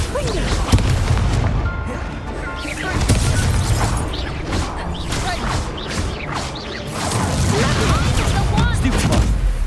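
Repeated Confringo blasting-spell explosions from Hogwarts Legacy, loud bursts and crashes under a player's continual spell-calling voice throughout.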